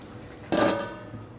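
A lid clanks down onto a cooking pot of prawn and taro-stem curry, a single close metallic clatter with a brief ringing tail, then quiet.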